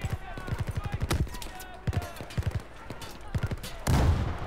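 Battlefield 4 campaign combat at a dam: rapid bursts of automatic gunfire crackle in quick rhythmic volleys, broken by short pauses, with a heavier blast near the end and a voice speaking briefly.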